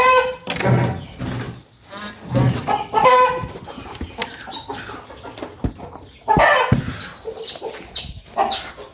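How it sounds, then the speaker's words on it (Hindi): Newly arrived hens cluck and squawk in agitated bursts close by as they fight, with scuffling and flapping between the loud calls. "ये दोनों मुर्गियाँ ना लड़ती रहेंगी"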